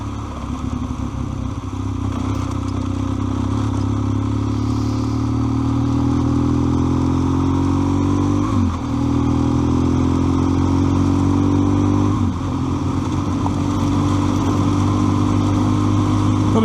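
A motorcycle rides a gravel backroad at Mount Hope, its engine droning loud and steady throughout, with two brief dips where the rider shifts gears and the note climbs again. Nobody speaks.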